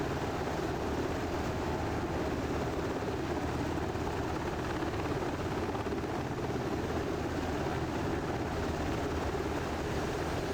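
A UH-60 helicopter taxiing on the ground in a flight simulator game, its rotor and engine giving a steady, loud, unbroken whirring drone with no speech.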